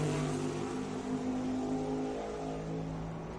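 Kyle Busch's NASCAR Cup car on a qualifying lap at Iowa Speedway heard as a steady, droning engine roar at a distance that slowly fades.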